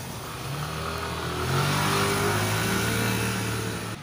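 A Yamaha Nmax scooter fitted with 9-gram KTC rollers, new springs and a Daytona Racing double clutch pulls away on a test ride, a steady engine drone rising in pitch as it accelerates.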